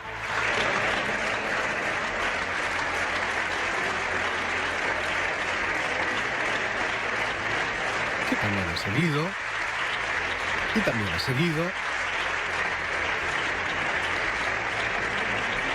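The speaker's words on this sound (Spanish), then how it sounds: "empezaba el aplauso a Pablo Casado literalmente un minuto después" Sustained applause fills a parliamentary chamber for Pablo Casado, a dense, steady roar of clapping from a large crowd throughout, with a couple of brief voices speaking over it.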